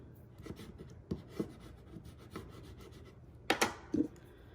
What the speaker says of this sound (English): Use our bone folder